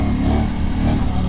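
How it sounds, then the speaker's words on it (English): A loud motorcycle with a non-stock exhaust roars steadily with a deep, throaty exhaust note, close and continuous throughout. "This doesn't sound like a stock exhaust."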